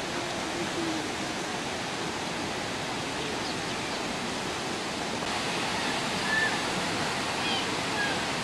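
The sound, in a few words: fast-moving water at the Villa d'Este fountains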